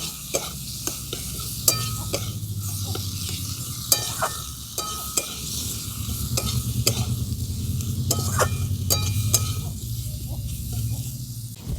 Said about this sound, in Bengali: হলুদ গুঁড়ো ধনে গুঁড়ো একটু জিরে গুঁড়ো এগুলো সব আমি খুব ভালো করে কষিয়ে নেবো